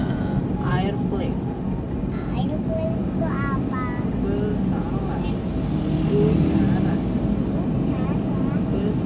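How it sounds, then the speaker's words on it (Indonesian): An airplane passes overhead along a street in Surodinawan, Mojokerto, a constant broad rumbling roar filling the background while voices chatter on top. "Itu lagi pesawat di atas."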